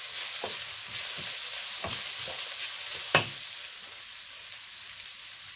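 Egg fried rice with vegetables stirred in a pan, a steady hiss of frying beneath a run of scraping spatula strokes, one louder knock near the middle, with no talk.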